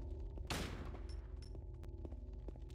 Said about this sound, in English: I just scared myself with my own bullet because I didn't mean to shoot